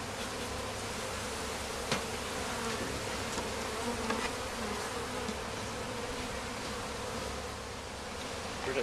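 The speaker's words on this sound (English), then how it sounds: "drop a full frame of bees" Honeybees swarm up in a dense, continuous buzz after a full hive frame is dropped during a hive split, loud and close throughout with a few sharper flicks of individual bees.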